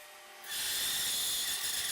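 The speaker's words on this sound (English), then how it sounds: "Then I swap the belt to a cylinder and sand down the inside of the curve." A cylinder drum sander grinds against the inside curve of a wooden sled runner cut from a 2x6, starting abruptly after a brief quiet moment and continuing as a steady, loud, close rasping whir.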